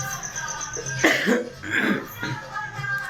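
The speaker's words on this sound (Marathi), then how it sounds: "कारण खोकला येते लगेच" A few harsh coughs break out in quick succession over a faint background hum, close and moderately loud.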